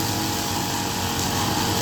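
A grass cutter runs steadily while clearing grass, making a continuous, fairly loud engine drone with no breaks. The machine is heard alone, with no talking.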